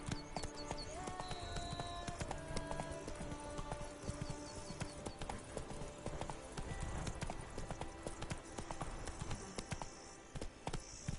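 Horse hooves clip-clop steadily and continuously while riding in The Witcher 3, close and loud over a dense game soundscape of ambient noise and music, with an occasional neigh.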